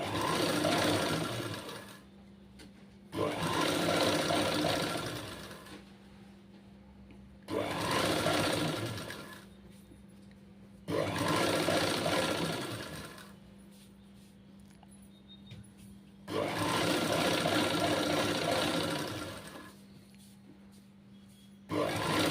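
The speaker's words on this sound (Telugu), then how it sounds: "నెక్కిలా మడతేసుకుంటూ కుట్టుకోవాలి." A sewing machine stitches the folded neck of a garment with slippery fabric and lining in loud, steady bursts of a few seconds each, pausing briefly between runs, close by and with no talking.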